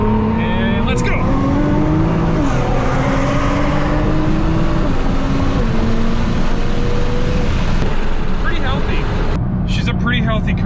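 Nissan R35 GT-R sports car engine pulls hard under acceleration, loud rising revs stepping up through gear changes, heard from inside the car with a person talking over it near the end.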